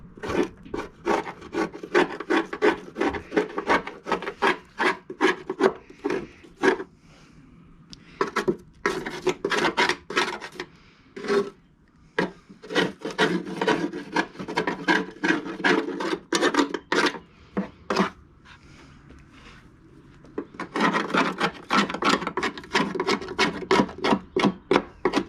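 Rotted wood underneath is scraped in repeated rasping strokes, each a short bursty scrape, close up and moderately loud, with brief pauses between sets of strokes and no talking.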